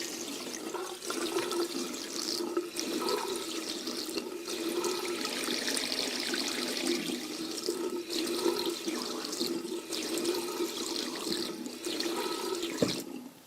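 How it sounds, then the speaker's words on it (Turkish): A water tap fed by a faulty hydrophore pump runs with an uneven hiss and splash, the flow wavering over about thirteen seconds and ending in a brief clunk, no talking. "Şimdi bakın şimdi şu anda suyu açıyorum."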